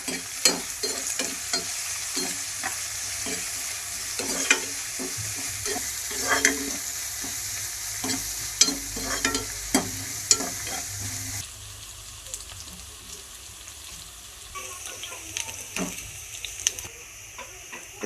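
Green chillies and curry leaves fry in oil for prawn curry, a steady close sizzle broken by frequent clicking taps of a spoon stirring against the pan.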